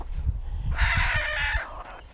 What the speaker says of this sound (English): The noises these chickens make.